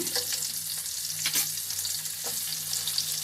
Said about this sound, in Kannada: ಈರುಳ್ಳಿ ಎಲ್ಲ ಚೆನ್ನಾಗಿ ಫ್ರೈ ಆಗಲಿ